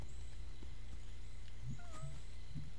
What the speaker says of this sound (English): I do hear a kitty.